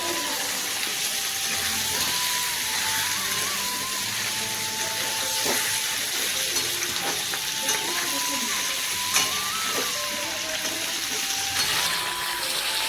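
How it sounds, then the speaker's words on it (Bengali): Chicken pieces fry with onions in a pan, giving a steady, loud sizzle and hiss throughout, with occasional stirring scrapes and a faint voice underneath. "চিকেনটাকে পেঁয়াজের সাথে খুব ভালোভাবে ভাজতে হবে।"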